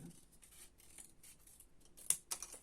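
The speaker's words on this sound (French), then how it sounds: "je vais venir découper mon triangle" Scissors cutting out a paper triangle, a few soft snipping and rustling strokes close by, ending with two sharper cuts, quiet and without speech.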